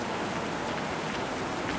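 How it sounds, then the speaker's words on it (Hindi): Very heavy rain pouring down outside a room, a steady dense hiss of water with no breaks, fairly loud and constant, no voices. "बहुत बहुत तेज़ बारिश हो रही है बाहर वैसे इस कमरे के"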